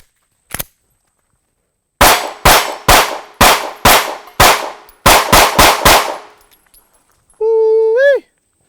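A Sig P365 pistol fires its last ten rounds on an outdoor range: one early isolated shot, then a rapid string of loud, sharp, close reports in fairly even rhythm, followed by a brief electronic beeping tone.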